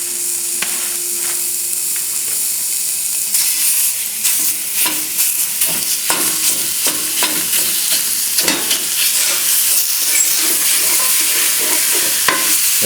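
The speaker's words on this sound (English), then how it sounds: "we want to saute the meat and the vegetables without having that liquid in there" Chopped ground meat and vegetables sauté in a pot without oil for hamburger potato soup, giving a steady loud sizzle with repeated scraping and stirring clicks from a spoon throughout.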